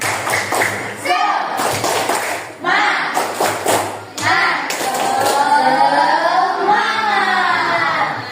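Classroom of students doing a rhythmic group clapping ice-breaker, clustered claps in patterned bursts with pauses, mixed with the teacher's voice and children chanting along.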